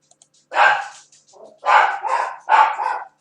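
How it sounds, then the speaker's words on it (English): Dogs bark in Trainz Railroad Simulator 2006, three loud bursts of barking close by, the last two each with a doubled bark, separated by short quiet gaps. "There go the dogs."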